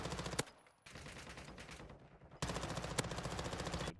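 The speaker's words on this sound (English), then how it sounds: "Wait till he stops shooting." Gunfire in Modern Warfare 2, rapid automatic bursts with a steady rattling rhythm, loud and close, broken by a brief pause before another long burst.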